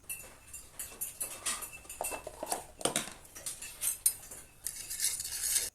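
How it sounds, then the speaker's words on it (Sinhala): A utensil beats eggs with thick coconut milk in a bowl, making a quick, uneven run of clinking, tapping strokes against the side, close up and fairly quiet, with no talking. "මිටි පොල් කිරි ටිකත් මේ විදියට බිත්තරයකටම එකතු කරගෙන හොඳට කලවම් කරගන්න ඕන"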